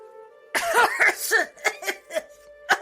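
A run of harsh, close coughs comes in quick succession, a rough burst followed by several shorter hacks and one final cough.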